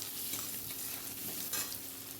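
Potatoes frying in hot oil in a wok with onion and cumin seeds, a steady close sizzle with soft stirring scrapes running throughout.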